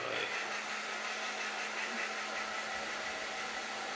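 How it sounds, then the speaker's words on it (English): Heat gun blowing hot air onto a part of a YOKOMO Rookie off-road buggy kit, a steady close airy hiss with a faint hum beneath, no talking. "Now getting the heat in there is the hard bit."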